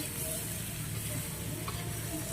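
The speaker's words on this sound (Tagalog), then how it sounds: "magigisa tayo ng gulay" String beans and pechay sautéing in a pan, a steady close sizzle with occasional stirring scrapes, continuous and unaccompanied by speech.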